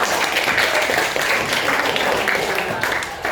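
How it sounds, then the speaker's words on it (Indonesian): A classroom full of students claps together, dense and continuous, steady applause for a few seconds. "Oke, tepuk tangan semuanya."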